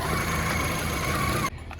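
A Peugeot 405 project car's engine running steadily at close range, a continuous broadband mechanical drone with a tonal whine, cutting off abruptly near the end.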